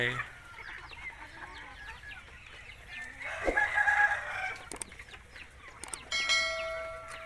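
Farmyard fowl sounds, with hens clucking softly and a rooster crowing partway through, over steady background noise; a few sharp knocks near the end.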